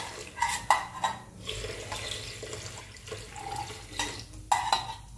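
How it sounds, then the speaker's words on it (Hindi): Water poured from a vessel into churned cream while making desi ghee by hand in a village kitchen, a close splashing pour with a few brighter sloshing bursts over about five seconds. "अब हम इसमें डाल देते हैं पानी।"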